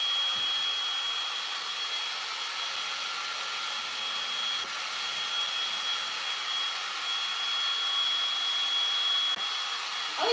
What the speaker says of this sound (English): So now I'm going to hit it with the dryer again because we want to dry it up a little bit.